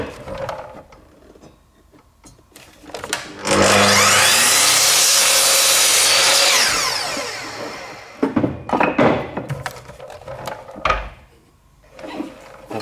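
Close, steady rasping of a hand saw cutting through wood for a few seconds, framed by scattered knocks and handling noises before and after.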